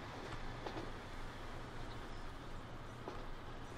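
A ScotRail Class 156 Sprinter diesel train runs along the track in the Transport Fever racing game, giving a steady low rumble with a few faint clicks, fairly quiet and without speech.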